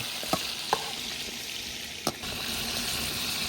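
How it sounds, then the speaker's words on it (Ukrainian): Chicken wings deep-frying in hot oil in a fryer, a steady broadband sizzle with a few sharp clicks and bumps of stirring, close and continuous with no talk. "крила наші ось так ось по фітюрі обжаруються"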